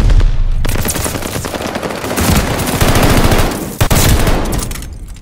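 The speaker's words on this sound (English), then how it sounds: "Hostiles are strafing us!" Loud sustained automatic gunfire from hostiles strafing in a ranked online shooter match, rapid continuous bursts close by with a sharp crack near the end.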